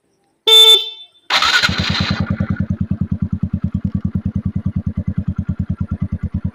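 A motorcycle sounds a short horn beep twice, then its engine runs close by with a steady, rhythmic putter that stays even to the end, with no voices.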